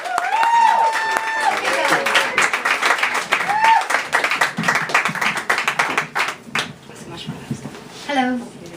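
An audience at The Inspired Word spoken-word night claps hard and cheers to welcome Welsh poet Rhian Edwards to the stage. Dense, loud clapping runs throughout with whistles and voices mixed in, thinning toward the end.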